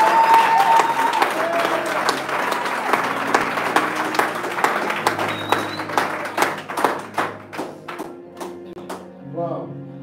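A church congregation at a French-speaking revival weekend service bursts into loud, sustained applause that thins into scattered individual claps toward the end.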